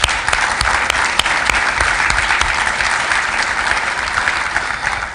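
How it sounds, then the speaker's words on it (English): Audience at the Linux Australia annual general meeting breaking into loud, even applause, a dense wash of clapping that holds steady throughout without any voices. "And if I could get a round of applause, that would be wonderful."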